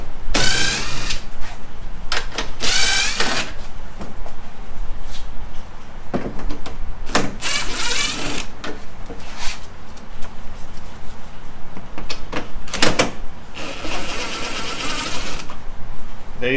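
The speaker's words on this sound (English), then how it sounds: "I'm going to go ahead and pull these screws loose." Screws on a 2003-2009 Toyota 4Runner headlight assembly are loosened in a run of short mechanical whirring bursts, close up and loud, separated by brief pauses over a steady background.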